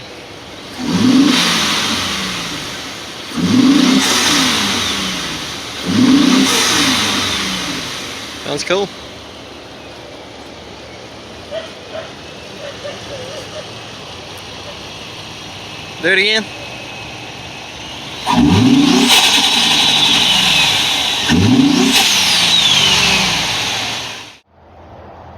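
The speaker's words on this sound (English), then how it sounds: "we're going to go ahead and let the truck warm up, and then we're going to see how it sounds" A 2018 Ford F-150 with the 3.5 EcoBoost V6, freshly fitted with an intercooler, revving hard in several loud bursts over a steady idle, with a brief exchange of voices between the revs.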